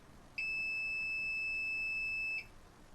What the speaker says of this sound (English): I'm going to push in on the number 1 button and hold down until the chair beeps at me.